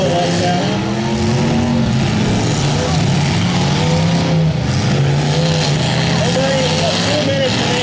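A race car engine at a Chinook Blaine County Showdown racing heat runs loud and continuous, its tone rising and falling as it revs and labors, with a commentator talking over it.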